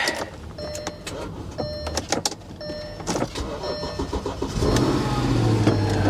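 A Dodge Ram SRT-10 with its Viper engine goes through repeated ignition chimes and clicks, then cranks and catches into a loud, close, steady idle.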